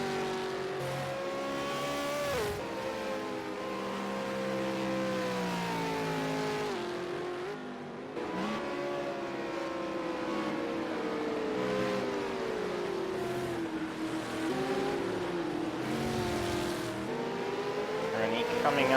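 V8 Supercars race at Bathurst's Mount Panorama circuit, their engines roaring and revving steadily through gear changes as cars pass close by, with a commentator talking over the continuous noise.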